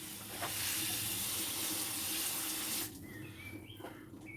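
Water pours steadily onto a potted bell pepper plant at a UK allotment, a close rushing splash that stops abruptly, leaving faint birdsong behind.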